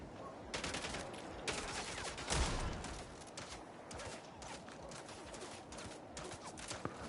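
Gunfire in the video game MindsEye: a steady stream of rapid shots in bursts throughout, fairly loud and close, with one heavier blast partway through and no talking.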